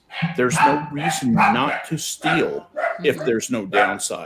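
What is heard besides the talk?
dogs barking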